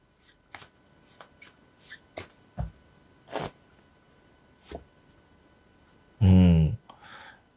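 Tarot cards being shuffled and drawn for a soul message reading: a series of soft, brief card riffles and flicks close by, followed by a longer, louder burst of shuffling near the end.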